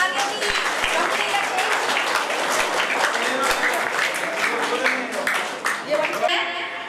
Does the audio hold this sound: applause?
yes